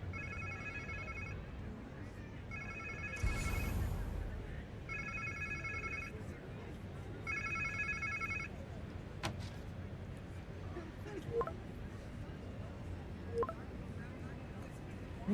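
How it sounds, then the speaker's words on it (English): A telephone rings in Marvel's Spider-Man 2, four evenly spaced electronic ring bursts, fairly quiet, against ambient game noise with a few clicks and thuds afterward. "Sounds like somebody's phone."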